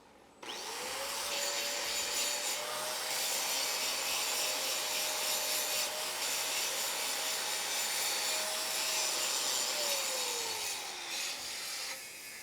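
An angle grinder runs steadily for about eleven seconds, grinding a weld down flush with the base metal on a welding bend test strap. The whine is loud and continuous, then winds down at the end, with no talk.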